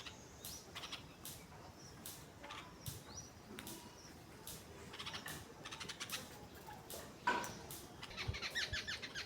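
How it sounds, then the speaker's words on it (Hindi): Birds calling in a garden, many faint chirps and short calls scattered across the clip over quiet background noise, with one louder call near the end. "देखिए कि पक्षियों की कितनी सारी आवाज़ें आ रही हैं।"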